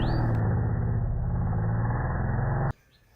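A motocross dirt bike accelerating out of a corner at Cycle Ranch, a loud rough engine roar held steady before cutting off abruptly into quiet outdoor background.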